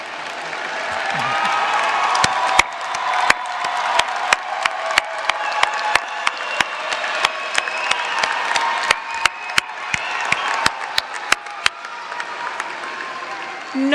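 Sustained applause fills a commencement ceremony hall as graduating students stand, with many hands clapping steadily and sharp individual claps popping out, plus a few voices in the crowd.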